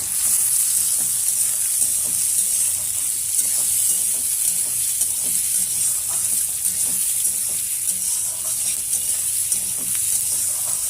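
Potato pieces and slit green chilies sizzle steadily in a pan with already-fried onion for homemade chow mein, a dense, continuous frying hiss with faint stirring scrapes and no voices.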